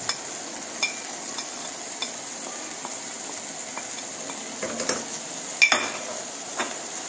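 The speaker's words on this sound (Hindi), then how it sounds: "अब हम इसको मसाले को अच्छी तरह मिक्स कर लेंगे और अच्छी तरह से भून लेंगे" Spices mixed and roasted in oil in a pan for chicken kofta, a continuous sizzle broken by scattered spoon scrapes and taps, one louder clatter late on, no speech.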